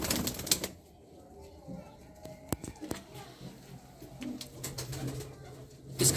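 Pigeons move about a newly built loft: soft cooing and occasional wing flaps sound close and quiet, with scattered knocks and rustles, and people talk faintly in the background.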